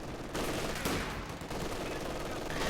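Dense machine gun fire in Company of Heroes 2, a continuous loud rattle of bursts layered with other battle noise across the whole stretch.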